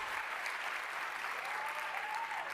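Steady, dense applause from a large crowd at the E3 2013 Xbox One reveal, filling the whole stretch at even loudness with no pauses and no talk over it.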